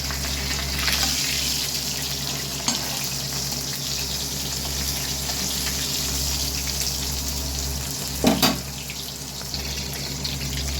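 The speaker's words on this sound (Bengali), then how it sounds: "প্রথমে আমি ইলিশ মাছের মাথাটা ভালো করে ভেজে নেব" A hilsa fish head fries in hot oil in a home kitchen, a steady hissing sizzle running throughout with a brief sharper spatter near the end.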